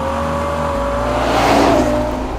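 A Ferrari Purosangue's 6.5-litre naturally aspirated V12 hums at a steady pitch, then swells briefly into a louder, rising rev before settling back, close and loud.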